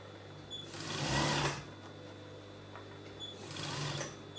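A sewing machine stitches a circle skater dress in two loud, steady whirring bursts, the first longer and the second shorter, separated by a quieter pause, with no talking.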